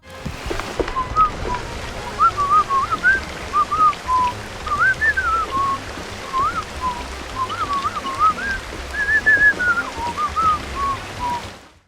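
A character whistles the Steamboat Willie tune while standing on a steamboat in a swamp in the video game Mouse P.I., a thin melodic whistle over a steady background hiss of rain or water.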